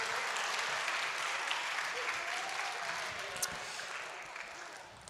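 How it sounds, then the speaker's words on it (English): Audience at a middle school academic and athletic awards event gives a coach a final round of applause, a sustained even clapping that fades slightly toward the end, with faint voices mixed underneath. "Let's give him one last round of applause"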